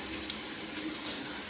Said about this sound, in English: rinse it really good with lukewarm water